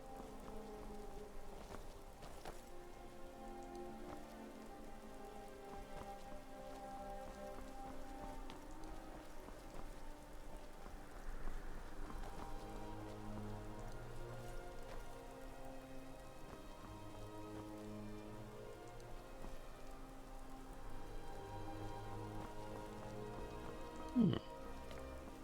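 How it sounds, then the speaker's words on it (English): Steady rain patters in Skyrim, soft and continuous over a low musical score, with one faint sharp sound near the end. "Of course it would rain."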